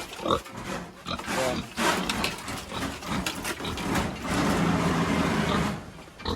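Grunting from a pig of roughly 80 to 100 kilos kept in a pen, a rough broadband noise that rises and falls in uneven bursts for several seconds, close by and fairly loud.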